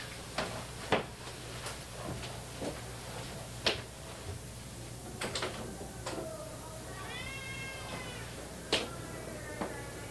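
A cat meows and whines indoors, with several rising, wavering cries and a drawn-out whine near the end, mixed with clicks, knocks and a steady low hum in the room.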